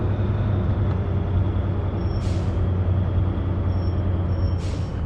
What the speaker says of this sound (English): Sounds of the brakes are quite good.